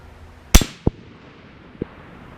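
Small 10-grain blue rounds fired at a steel target: one sharp loud crack with a quick ringing tail, followed by two shorter, fainter pings about a second apart, in an otherwise quiet outdoor setting.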